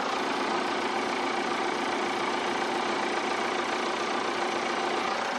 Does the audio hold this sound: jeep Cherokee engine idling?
yes